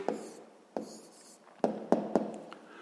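A pen writes a math answer on paper with soft, close scratching strokes and a few light taps where the pen touches down.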